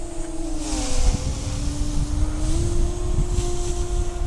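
An LYZRC L100 drone lifts off and flies outdoors, its motors holding a steady high whine that dips and rises in pitch, with wind buffeting underneath throughout.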